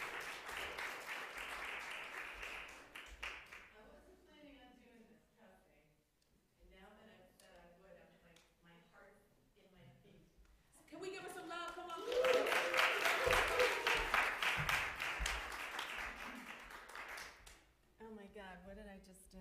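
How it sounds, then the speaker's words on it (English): Audience applause breaks out at a spoken word performance during an MLK series event, a loud burst of clapping rising around the middle and lasting several seconds, with speech before and after it. "Give her a round of applause as she comes up."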